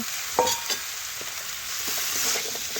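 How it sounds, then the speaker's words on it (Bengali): Fried potato, pointed gourd, beans and carrot are stirred together in a pan: two sharp spatula knocks near the start, then softer scraping over a steady sizzle, close up and without speech. "এটাও ভালোভাবে আমি মিশিয়ে নিচ্ছি সব কিছু একসাথে কষে নেব"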